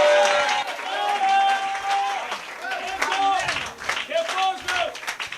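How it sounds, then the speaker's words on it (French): A church congregation claps hands in praise during a bilingual English-French service, a strong, continuous round of applause with voices and sung or called-out tones rising over it throughout. "give a clap of hands to the Lord"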